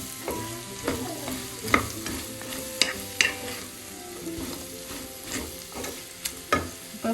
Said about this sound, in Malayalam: ക്യാരറ്റ് ചേർത്ത് നന്നായി ഒന്ന് മിക്സ് ചെയ്യാം